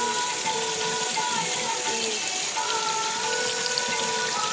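A tap pours water steadily into a sink during washing, a constant close rushing flow with a faint tonal hum, no speech.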